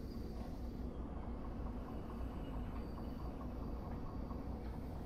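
Train rolling along in the Derail Valley VR game, a steady low rumble and rattle of rail travel running continuously and fairly quietly, with no talk over it.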